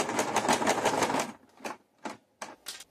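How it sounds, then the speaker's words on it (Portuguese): A sewing machine backstitches fabric scraps together: a rapid burst of mechanical stitching, then several short separate clicking runs with pauses between. "Vamos passar um retrocesso aqui pra unir todas as peças juntos."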